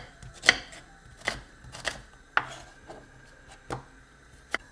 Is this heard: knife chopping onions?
yes